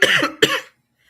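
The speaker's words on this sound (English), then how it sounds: "Sorry, y'all, for the coughing." Two sharp coughs in quick succession, close and loud, followed by silence.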